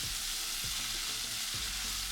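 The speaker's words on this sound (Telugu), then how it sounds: "ఇప్పుడు మనం 2 బాగా పండినటువంటి ఎర్రటి టమాటో ముక్కలు కూడా ఇందులో కలుపుకుంటాం" Tomato pieces frying in a chicken korma pan, a steady close sizzle with a couple of scraping stirs through the oil, no voices.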